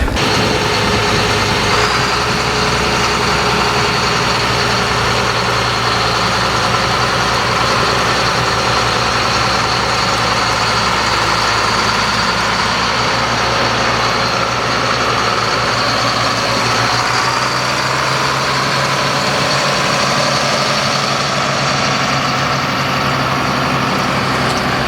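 An Allis-Chalmers One Ninety tractor engine runs steadily at a loud, close idle and low rumble that eases off toward the end as the machine drives away.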